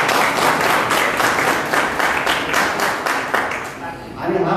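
An audience at a 2021 felicitation ceremony in Ahmednagar claps in a steady, rhythmic beat that fades briefly before a voice begins to speak at the end.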